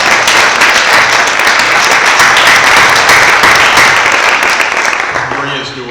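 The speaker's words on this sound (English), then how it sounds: "if we could give a special round of applause to Maria" An audience gives loud, sustained applause for Maria at an SDSN Turkey event, dense clapping close by that tapers off at the end, with voices mixed in.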